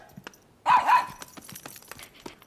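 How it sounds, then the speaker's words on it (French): A small dog, a puppy, gives a couple of quick, sharp high yips close by in a quiet indoor setting, followed by faint soft movement sounds. "Viens me voir, mon petit chien."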